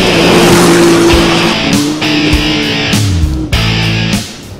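Quad bikes and odd grasshopper-like rally cars race across the Jalapão backcountry, engines revving loud and continuous with shifting pitch and tire squeal as machines pass close by.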